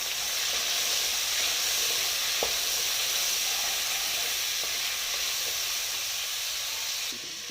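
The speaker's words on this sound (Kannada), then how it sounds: "ಸಾಲ್ಟ್ ಹಾಕ್ಕೊಂಡು ಸ್ವಲ್ಪ ಫ್ರೈ ಮಾಡ್ಕೋತೀನಿ." Okra sizzles steadily in a pan with salt while frying for sambar, a constant close hiss with a few faint clicks of stirring against the pan.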